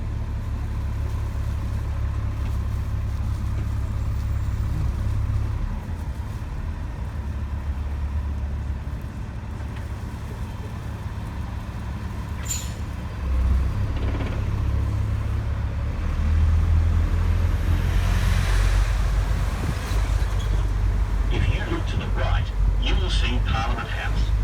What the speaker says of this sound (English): bus is moving.